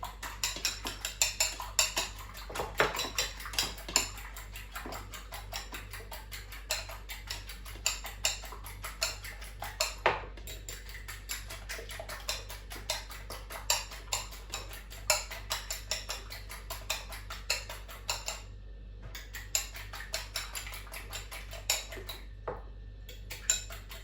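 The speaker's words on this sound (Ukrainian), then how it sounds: "Все, збиваємо." A whisk beats a mixture with milk in a bowl for a lavash pizza, rapid, light metallic ticking and clinking strokes repeating steadily at close range, with brief pauses between runs.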